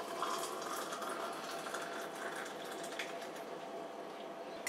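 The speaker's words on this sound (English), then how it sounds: "Pour in the water." Boiled water from a kettle pours into a cup holding a tea bag, a continuous hissing, splashing stream at close range, steady and unbroken with no speech over it.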